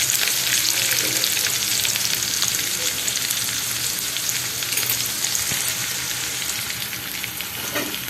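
Onion fries with salt in a pan on a low simmer, giving a continuous, even sizzle and crackle close up, with occasional soft stirring sounds and no voices.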